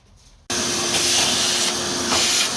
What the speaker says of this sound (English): I got one of my sons helping me right now vacuum up any debris